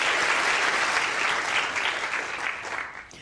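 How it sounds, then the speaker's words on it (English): Sustained applause from a lecture audience for a speaker leaving the stage, loud and dense at first, then thinning slightly toward the end, with no voices over it. "a round of applause for Rosemary, please"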